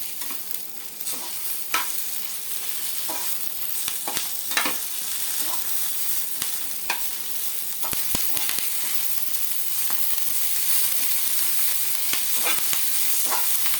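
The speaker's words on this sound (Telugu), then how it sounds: "ఇవి తిప్పుకుంటూ ఇవి కూడా వేగాలండి బాగా మనకి" Ingredients for tomato chutney stirred and frying in a little oil, a steady close sizzle broken by repeated scraping strokes of a spoon against the pan, with no talk.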